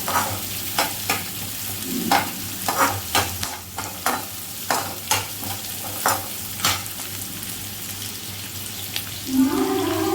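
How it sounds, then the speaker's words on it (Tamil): Onions and other ingredients for mushroom manchurian sauté in a pan with a steady sizzle, broken by repeated scraping stirs of a spatula. The sound is close and fairly loud, with no talking. "நல்லா பொன்னிறமாக வர வரைக்கும் வதக்கலாம்."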